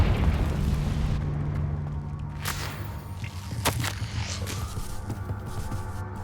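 Confringo fire spell explosions in the Hogwarts Legacy video game: loud booming blasts and sharp bursts over a steady low rumble, with several crackling hits stacked through the clip.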